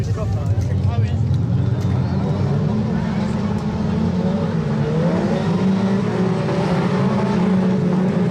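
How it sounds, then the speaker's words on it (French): Super stock cars, including Renault 4s, race around a track in a group A heat of a Seine-et-Marne grand prix, their engines roaring in a dense, continuous drone beneath a race commentator's steady talk. "ces Renault 4 ont toujours été des voitures ayant la forme la plus optimale pour réaliser les tours"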